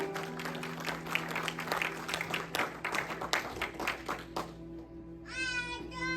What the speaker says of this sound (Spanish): Dale palmas a Él